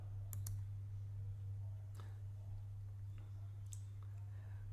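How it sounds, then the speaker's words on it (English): Sharp mouse clicks from a computer, a few quick isolated taps at close range over a steady low electrical hum, with no talking. "click on Load My Math Lab in a new window"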